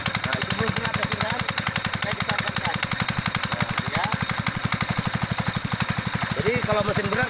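A Chancin engine-powered sprayer runs while spraying honey guava trees, its small motor thumping in a rapid, even, unbroken rhythm at close range.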